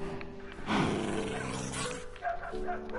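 A wolf in the Minecraft video game gives a few barks and growls, fairly faint and rough, with some game ambience and a brief voice.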